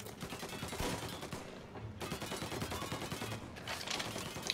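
Gunfire in the Mafia Definitive Edition video game, a sustained dense fusillade of rapid shots and crackling bursts, loud and continuous throughout with no talk.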